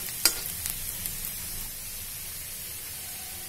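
Food for a samosa filling sautés in a pan, giving a steady, even sizzling hiss after a couple of sharp clicks at the start, with no voices.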